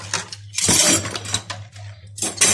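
Dishes and a white Tefal pot being washed by hand, with uneven bursts of clinking, clattering and scraping of crockery and cutlery, separated by short pauses and a low steady hum underneath.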